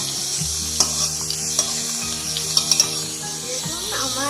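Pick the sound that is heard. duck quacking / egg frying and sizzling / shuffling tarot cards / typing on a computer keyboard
egg frying and sizzling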